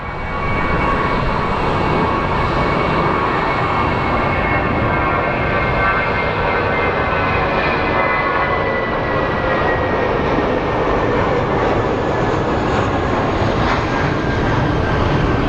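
A departing airliner at Phoenix Sky Harbor International Airport, its jet engines a loud, steady, broadband roar with a faint whine, sustained close by throughout without any talk.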